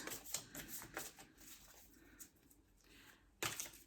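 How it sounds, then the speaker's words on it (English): A large Light Seers tarot deck is shuffled by hand in quick soft riffling bursts, close and fairly quiet, with short pauses between the papery flutters. "My apologies for my shuffling here."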